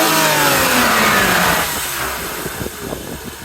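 A BMW E36's M50 inline-six engine revs up and then settles, a loud, close mechanical roar that falls back toward idle with a few small blips.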